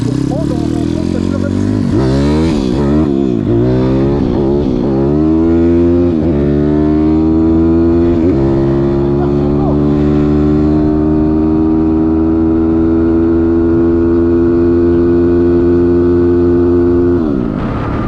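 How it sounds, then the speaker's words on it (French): A Zongshen 180 single-cylinder engine revs up from idle, its pitch sweeping steeply higher over a few seconds and then holding a loud, steady high-rev howl close by, with a quick drop at the end. "là on va faire maintenant une accélération"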